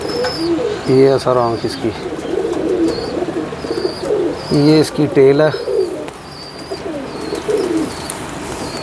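A pigeon being handled gives a few low, rhythmic coos close up while someone talks throughout.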